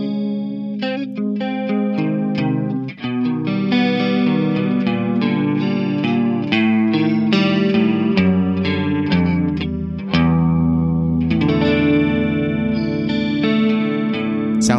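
An electric guitar runs through a Joyo Ironman Future Chorus pedal set for a basic 80s chorus tone, playing a close, loud run of strummed chords and picked notes with a shimmering, wavering sound and no talking.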